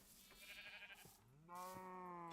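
Two bleats from sheep in Minecraft: a short nasal one, then a longer, louder wavering bleat close by, with no talk over them.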